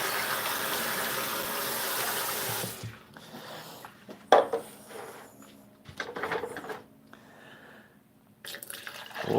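Water flows and then drips. A steady gush of running water at first gives way to scattered close drips and trickles in quiet surroundings.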